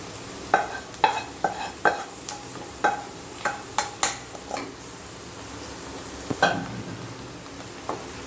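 Chicken and vegetables frying in a pan for chicken egg fried rice, a spoon knocking and scraping the pan in a quick series of close clicks over a faint, steady sizzle.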